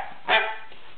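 A single short bark from a pet dog indoors, one sharp burst near the microphone standing out against a quiet room.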